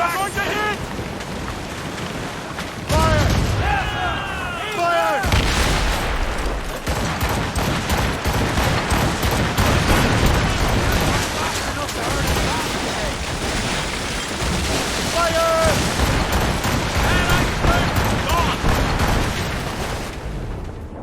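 Ship cannons fire in Assassin's Creed Rogue, dense booming volleys rolling over wind and sea noise for the whole stretch, with shouting voices mixed in.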